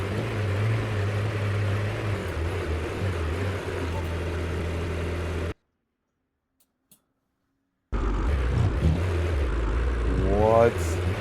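Twin-turbo Lamborghini Performante engine idling with a low, steady droning rumble, cut by a brief silence, then returning with a rising rev sweep near the end; voices talk over it.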